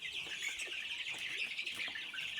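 Egyptian Fayoumi farm chickens cluck and chirp in a steady, busy chorus of overlapping calls, fairly faint and even throughout, with no voices present.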